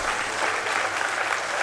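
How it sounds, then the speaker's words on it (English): A crowd at a student prize-giving ceremony claps steadily and fairly loudly, a dense wash of applause from many hands throughout. "Please give her a huge round of applause."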